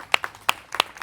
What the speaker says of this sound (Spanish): Quiero brindar nuevamente un fuerte aplauso a los invitados.